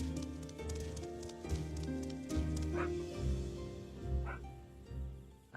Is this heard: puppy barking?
yes